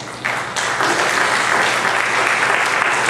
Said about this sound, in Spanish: Usted le da un aplauso fuerte a Dios.